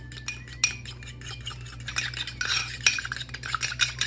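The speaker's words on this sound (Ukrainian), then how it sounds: "Одну столову ложку молока і гарно взбиваємо виделкою до однорідності." A fork whisks two egg yolks with a spoonful of milk in a bowl, giving rapid, steady clinking and scraping strokes close up that grow busier toward the end, with no talking.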